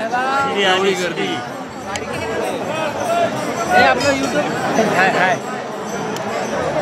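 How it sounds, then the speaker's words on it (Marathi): Dense crowd of pilgrims at the Pandharpur yatra, packed close around a bathing spot, with a constant babble of many overlapping voices, shouts and shuffling nearby. "खालीच उतरायला एवढी गर्दी."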